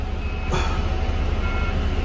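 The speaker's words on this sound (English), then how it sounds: "Got to reverse the bus back, so it's going to be a bit tricky." A London bus is reversing, with a steady engine rumble and a single bright reversing beep near the start, loud and close.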